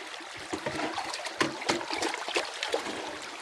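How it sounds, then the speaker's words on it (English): Water sloshes and splashes over a gold sluice V-mat during outdoor cleanout, a close, uneven run of wet splatters and trickles with sharper surges every half second or so. "Splash out that top V-mat real good."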